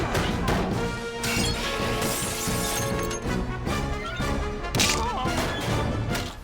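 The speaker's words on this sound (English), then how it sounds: "The back and forth argument breaks out into an all-out brawl." Animated brawl with glass smashing, dense crashes, thuds and breaking over a busy score, loud and continuous throughout.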